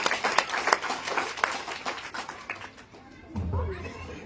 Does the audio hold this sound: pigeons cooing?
no